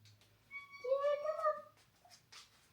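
Several pet cats meow in a kitchen while their owner shares tuna with them, a clear rising meow standing out over a low background hum, with faint quieter meows around it.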